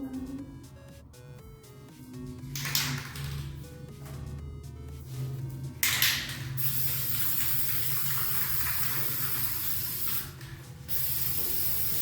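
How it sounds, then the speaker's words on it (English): A spray paint can hisses white paint in several short and long bursts, close up, with a rattle-like clatter between bursts. "after you spray painted it white"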